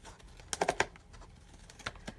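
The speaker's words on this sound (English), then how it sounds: "I'm just going to take my pinking shears and I am going to cut off the excess white part like so." Pinking shears snipping the excess white paper off a custom chip bag, a quick cluster of three or four sharp close crisp cuts followed by a couple of lighter snips.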